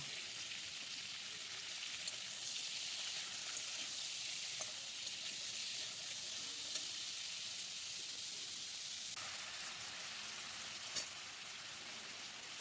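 Cauliflower seasoned with salt and turmeric fries in oil in a pan, giving a steady, soft sizzle that runs on evenly and alone throughout.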